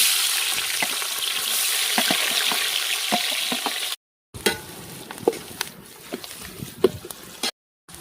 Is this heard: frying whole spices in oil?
yes